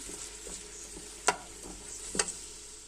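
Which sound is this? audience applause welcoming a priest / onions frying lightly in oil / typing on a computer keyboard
onions frying lightly in oil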